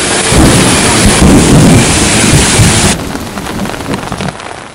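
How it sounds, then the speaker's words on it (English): A loud thunderstorm with heavy rain pounding down and rumbling thunder, the downpour dense and close before easing to a softer patter near the end. "Rain is coming."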